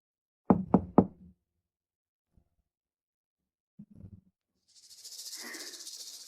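Three quick, sharp knocks on a door land close together, then a pause and a softer second burst of knocking, followed by a rising hiss of running water.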